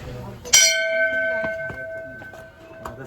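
A metal temple bell at the Shankaracharya temple in Srinagar, Kashmir, rings with one sharp strike and a long sustained ring, followed by fainter further strikes, with a voice speaking nearby.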